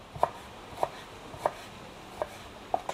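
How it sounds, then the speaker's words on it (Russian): A knife chops tomatoes on a cutting board in slow, evenly spaced strokes, five or six crisp taps with quiet between them. "нарезаем помидоры вот такими вот кусочками, чтобы не слишком толсто"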